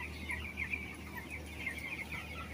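Broiler chickens cluck and chatter faintly in a closed poultry house, a soft continuous flock murmur over a low steady hum, with no voices.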